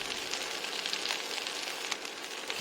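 Chalta (elephant apple) chutney sizzles steadily in a pan with salt and turmeric as it is stirred, a continuous close hiss with no voices.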